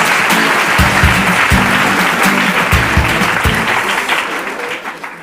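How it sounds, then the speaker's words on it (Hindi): Studio audience at a Hindi quiz game show bursts into loud, close applause, with rhythmic low thumps from music or drums underneath; the clapping stays dense before tapering slightly toward the end. "जोरदार तालियां बजाइए"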